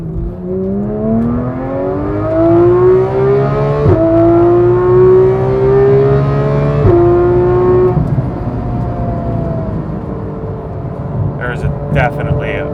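A Porsche 991 GT3 with a Dundon Motorsport exhaust and headers revs steadily, its rising engine tone climbing through gears in long sweeps, loud and continuous, heard from onboard.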